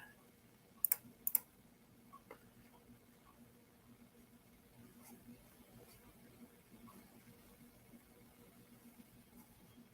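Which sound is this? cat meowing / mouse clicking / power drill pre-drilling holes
mouse clicking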